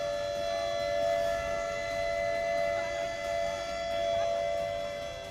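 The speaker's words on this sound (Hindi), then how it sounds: "इसी जगह पर बादल फटे, इस संकट को लेकर खतरे का सायरन बज उठा" Danger warning siren wailing over Kullu's Sainj valley after a cloudburst, a steady, far-carrying tone rising and falling gently, heard continuously without voices.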